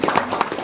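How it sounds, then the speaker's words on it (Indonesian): An audience claps in a brief burst of several sharp hand claps, close and fairly loud, with no voices. "Nah, tepuk tangan dong."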